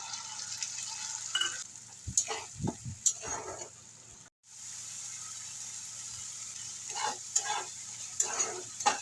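A paste of ground cumin, garlic, onion and green chilli sizzling in a pan for a yogurt rohu fish curry, a fairly quiet hiss with intermittent stirring scrapes and a brief dropout midway.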